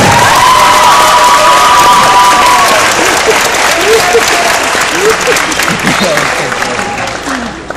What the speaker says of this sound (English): This nice round of applause is for you to start the show.